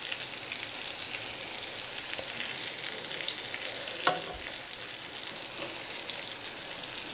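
Stuffed eggplant curry frying in a pan, a steady close hiss like light rain, with one brief sharp clink partway through and no talking.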